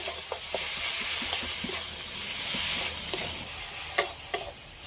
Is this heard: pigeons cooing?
no